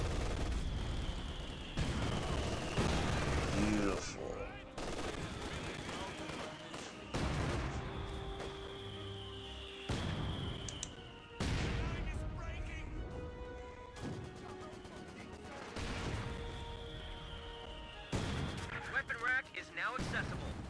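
British double mortars firing in Company of Heroes 2, a series of loud booming blasts and impacts spaced a few seconds apart across a battlefield, with brief talk between them.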